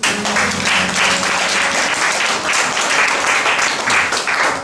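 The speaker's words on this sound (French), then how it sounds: "Acclame Jésus." A church congregation applauds steadily, a dense wash of many hands clapping at full volume without pause, with faint background sound from the service underneath.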